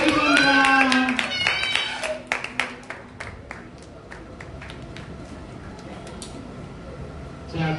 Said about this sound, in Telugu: డోరీమన్ పిల్లలు అందరు క్లాప్స్ పెట్టండి